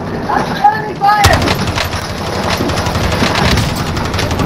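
Gunfire in Call of Duty: Modern Warfare bursts out as dense, loud rattling fire that continues steadily, with a brief voice and short whistling tones just before it starts.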